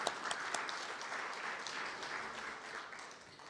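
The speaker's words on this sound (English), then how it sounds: "A round of applause for our panel colleagues." Applause from a seminar audience for panel colleagues at a G20 event on culture and climate: steady, fairly faint clapping from a crowd that holds evenly for a few seconds, with no talk over it.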